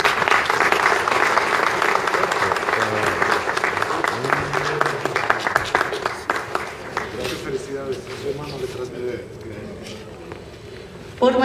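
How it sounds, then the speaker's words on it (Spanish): Steady applause from a crowd, with dense clapping that gradually thins out and fades toward the end. "Un fuerte aplauso, por favor."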